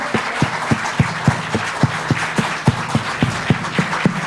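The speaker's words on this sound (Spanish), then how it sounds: "darle un aplauso a Dios en honor a lo que Él ha hecho por nosotros" Church congregation applauding together during a Sunday sermon, a steady rhythmic clapping with regular sharp claps, close and fairly loud, with no talk over it.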